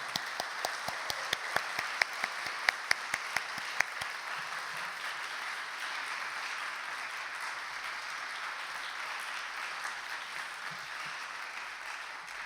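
Church youth group applauding to welcome a professor to the front, opening with a few sharp individual claps before settling into a soft, steady, distant patter of applause.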